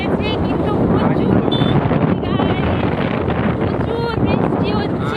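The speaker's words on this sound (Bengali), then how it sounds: "প্রচুর বৃষ্টি গাইস।" Heavy rain pouring during a motorbike ride, a dense, steady roar of drops and wind buffeting close to the microphone throughout, with voices talking over it.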